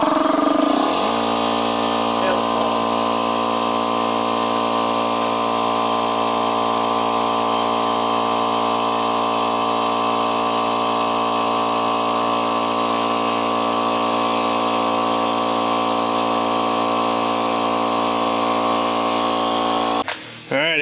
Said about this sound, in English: we got to fire the compressor up, so we're gonna check, see how loud it is.